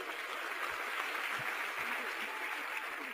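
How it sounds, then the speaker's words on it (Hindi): A steady, dense wash of audience clapping fills a business celebration event hall, sustained evenly for a few seconds without a break. "तो एक जोरदार तालियां हो जाए नेला के लिए"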